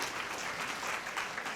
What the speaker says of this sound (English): You can give them a round of applause as they make their way to the stage.